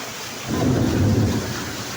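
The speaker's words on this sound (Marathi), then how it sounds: "आत्ता बाहेर जाम पाऊस चालू आहे" A heavy downpour pours outside while streets flood and water creeps into the house: a dense, steady hiss of rain with a deep rumbling swell rising midway and easing off, and no voices.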